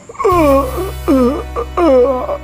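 Three drawn-out wailing cries rise and fall in pitch over a low, constant hum, close and fairly loud.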